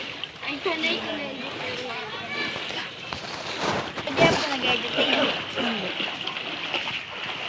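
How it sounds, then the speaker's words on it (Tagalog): Children swim in high-tide flood water, splashing and sloshing continuously at close range while voices talk and call out over the water. "nagsiswimming po yung mga bata"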